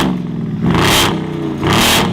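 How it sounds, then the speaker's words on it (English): A Brabus engine cold-starts with two loud rising bursts of revving, each swelling and falling back to a steady idle between them, close and alone. "cold start of a proper car, the Brabus."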